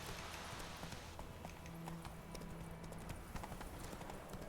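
Horse hooves clip-clopping at a steady gallop in The Witcher 3, a continuous rhythmic run that holds close and loud against a dense game backdrop, with no talking over it.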